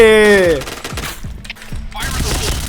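Rapid gunfire in the Point Blank shooter game, several sharp shots in quick succession after a tonal effect, with a voice talking over it.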